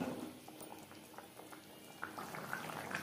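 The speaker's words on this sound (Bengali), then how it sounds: "গ্রেভির সাথে মাছ বেশ ভালো করে সেদ্ধ হয়ে গেছে" Tilapia fish curry simmers in its gravy in a pan, giving a quiet, close bubbling with soft pops and blips scattered over a low, steady hiss.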